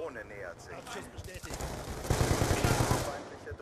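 Gunfire in Call of Duty Black Ops 2, with rapid bursts that build into loud sustained shooting in the second half, and a voice over the start.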